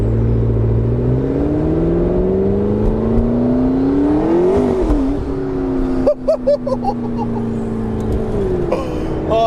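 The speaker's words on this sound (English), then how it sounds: "You hear the wind, you hear the exhaust, you hear the turbo" Blue McLaren 650S Spider driven with the roof off, its engine and exhaust rising in pitch as it accelerates with turbo whir, steady and close, then dipping and picking up again with wind noise around it.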